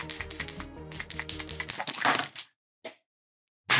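A glass ink bottle shatters near an airbrush setup, giving a burst of sharp cracking and crunching clatter that stops abruptly, followed by near silence, one faint tick and a short sound at the end.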